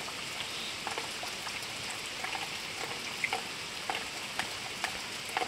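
Bordeaux mixture of lime and copper sulfate being stirred for areca palm rot disease, a steady wet swishing with scattered small splashes and clicks, fairly close and even throughout, no talking.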